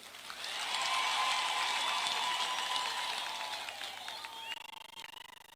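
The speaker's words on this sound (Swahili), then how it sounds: "Kwanza karibisha rais kwa makofi na shangwe na vikelekele" A church crowd welcomes the president with loud, sustained clapping and cheering that swells quickly, holds, then thins toward the end, with voices mixed in.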